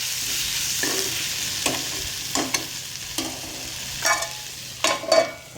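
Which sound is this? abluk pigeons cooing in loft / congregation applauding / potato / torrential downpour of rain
potato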